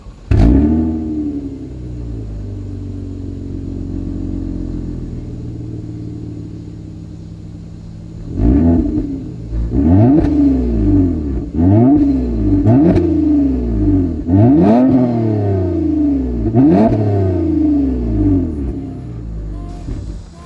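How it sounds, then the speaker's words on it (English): A 2020 Toyota Avalon TRD with dual exhaust idles loud and close, then blips through a rapid series of sharp revs that rise and fall one after another, each rasping burst followed by a quick drop back to a rumbling idle. "As always, here is that exhaust clip."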